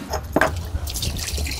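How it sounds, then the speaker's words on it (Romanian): Water runs and splashes from a hose into the freshwater tanks on a yacht, a close, uneven trickle and gurgle with a few sharper drips near the start. "După ce te-am declătit aici, mai băgăm apă în rezervoare."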